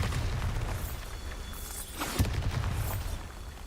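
A Bombarda spell explodes in Hogwarts Legacy, a single booming burst near the middle over a steady low rumble of game ambience, with a few lighter pops and crackles around it.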